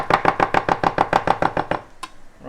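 A knife rough-chops capers on a cutting board in a home kitchen, giving about a dozen quick, evenly spaced thuds close up, then a pause and a single lighter knock.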